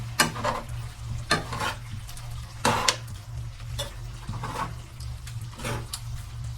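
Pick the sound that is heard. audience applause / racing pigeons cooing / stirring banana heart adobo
stirring banana heart adobo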